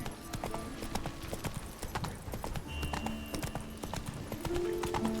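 Roach, Geralt's horse in The Witcher 3, clip-clops along in a steady rapid rhythm of hoofbeats, close and clear with faint game tones behind.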